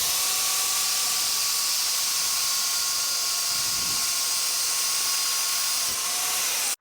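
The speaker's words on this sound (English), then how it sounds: "I got the pipe pretty wire wheeled off here." Power wire wheel brushing scale off a snowmobile exhaust pipe, a steady high whine with gritty hiss held at constant pitch for several seconds, close and loud, then cutting off abruptly.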